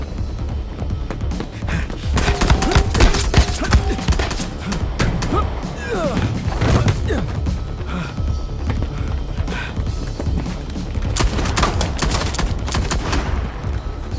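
Loud bursts of gunfire crack repeatedly over a busy, noisy scene, some shots in quick clusters, with shouting voices and hurried movement mixed in.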